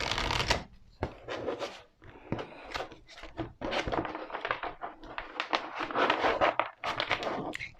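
Tarot cards being shuffled and drawn, a steady run of papery riffles and slaps with short pauses between bursts, close and fairly quiet, with no talking.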